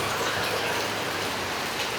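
Rain falls steadily outdoors, heavy enough to halt work, giving an even, close, unbroken hiss across the brief stretch with no talking.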